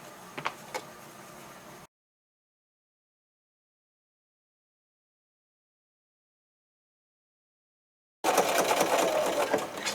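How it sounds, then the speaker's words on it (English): A sewing machine top stitches close to the top edge of a small lined doll backpack, running steadily for about two seconds, then falling silent before a louder, denser run of stitching resumes near the end. "what we're going to do is top stitch real close to the top."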